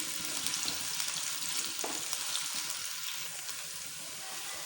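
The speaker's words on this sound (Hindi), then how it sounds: "अब हम प्याज को सबसे पहले प्याज को पकाएंगे, हल्का हल्का सा ही पकाएंगे" Onions frying in a pan, a steady broadband sizzle that holds at an even, fairly loud level throughout with no voices present.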